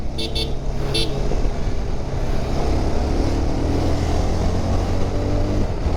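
Bajaj Pulsar 220F motorcycle ridden on an open road, its engine pulling steadily with a continuous loud drone and wind rush, a couple of brief horn-like toots near the start.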